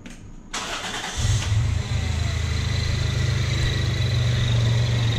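A car engine with an EFI fuel pump cranks briefly and catches, then settles into a steady, loud idle. The sound is close, with no one speaking over it.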